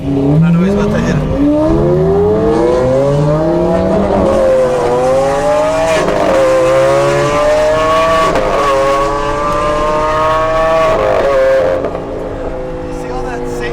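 A Lamborghini Aventador revs hard and loud close by, its engine note sweeping up and down in repeated surges with crackling exhaust pops between, and voices are heard over the roar.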